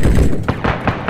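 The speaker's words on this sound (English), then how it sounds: "Help me, they're shooting at me." Video game gunfire: loud, close, booming shots in a quick irregular volley over heavy low rumble.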